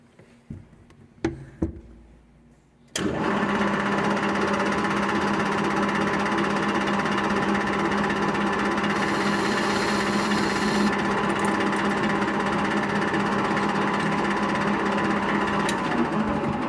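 Metal lathe cutting a marking groove in a workpiece, a few sharp knocks before the machine's loud, steady whirring cut starts and holds without a break.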